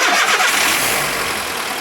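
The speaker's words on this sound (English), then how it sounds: "What we do is start the car." A Volkswagen Golf engine, just back together after a timing belt job, starting in a garage: a steady, loud broadband engine roar that holds evenly through the short span without voices.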